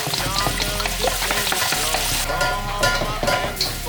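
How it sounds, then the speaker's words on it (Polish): Beaten eggs sizzle loudly in a hot pan while being stirred briskly for pad thai, a close crackling fry broken by the scrape and clatter of the stirring utensil. "wlewamy sobie nasze jajka. I mieszamy tutaj, żeby one nam się ścięły"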